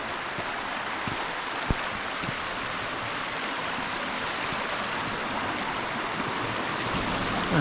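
The River Lathkill in the Derbyshire Dales flows steadily in a continuous broadband rush, close and even throughout with no talking, heard just after crossing the stream on a hike.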